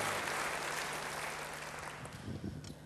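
Church congregation applauding together, a dense, steady wash of clapping that gradually thins and softens toward the end, with no voices over it.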